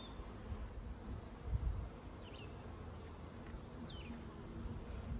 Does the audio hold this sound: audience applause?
no